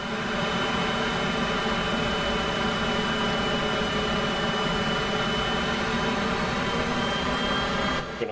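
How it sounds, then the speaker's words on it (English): Cessna CJ4 jet engines spooling up under throttle in Microsoft Flight Simulator 2024, a loud steady whine with sustained tonal hum and broadband roar, continuous throughout. "There's a lot of throttle just to start moving."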